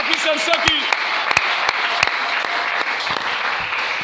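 A church congregation applauds, steady dense clapping filling the room for a few seconds, with a voice briefly audible at the start.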